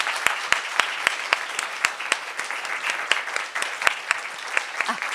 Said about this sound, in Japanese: 今一度パソの生産者に拍手をお願いいたします。